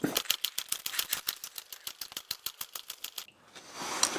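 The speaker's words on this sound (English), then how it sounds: "It's probably going to take a bit to pump these filter housings full" Hand primer being pumped on the diesel injection pump of a white Iseki tractor, a fast even train of sharp close clicks for about three seconds, then stopping, with a hiss rising at the end.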